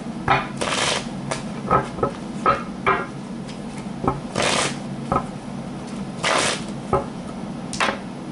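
Tarot cards are shuffled by hand in a run of quick riffling bursts and soft slaps, close and fairly loud, with brief pauses between the shuffles.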